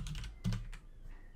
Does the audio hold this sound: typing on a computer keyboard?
yes